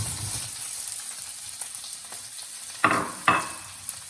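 Onions frying in a hot pan, a moderate hiss with light stirring and two sharp, close clatters near the end.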